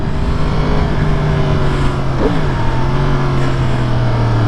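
A Yamaha R1 superbike's engine drones loud and steady while riding, with a brief shift in pitch partway through. Heavy wind noise runs under the engine.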